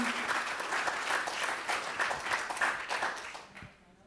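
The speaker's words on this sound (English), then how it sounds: "So if everyone can give themselves a round of applause for participating." A conference audience applauds itself, a steady wash of many hands clapping that holds evenly for a few seconds before tapering off.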